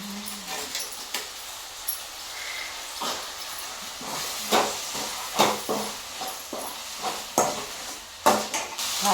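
Curry leaf kuzhambu ingredients frying in oil: a steady sizzle under repeated scrapes and knocks of a spoon against the pan, close by, growing busier toward the end, with no talking.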